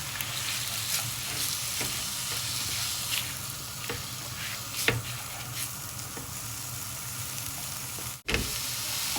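Chopped onions frying in a pan for a lamb trotters curry, a dense, constant close sizzle with faint stirring scrapes throughout and a brief sharp break near the end, with no speech.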